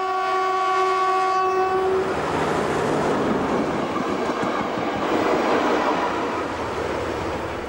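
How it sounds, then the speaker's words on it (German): A Reichsbahn V60 diesel locomotive sounds a long horn blast on a line near Hartenstein, then rumbles past loudly with steady wheel and engine noise for several seconds. A voice speaks one short word. "Der Zug ist auf dem Weg nach Zwickau,"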